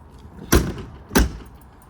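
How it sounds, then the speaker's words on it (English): Two sharp slams a little over half a second apart as the slam-latch luggage doors on a 2021 Keystone Bullet Premier 23RB travel trailer shut, close and loud against a quiet outdoor background. "Slam latch luggage doors."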